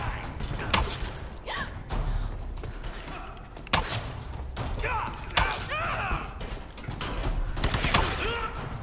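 Video game gunfire crackles in scattered sharp shots and short bursts, mixed with mechanical clatter and thumps, with a voice speaking between the shots.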